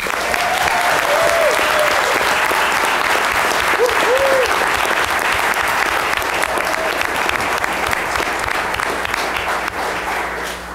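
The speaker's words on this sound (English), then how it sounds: "Let's give them a round of applause" Town council meeting audience applauding state-championship 10U softball and 12U baseball teams: long, dense, even clapping from a crowded room, with a few faint whoops and voices under it, sustained throughout.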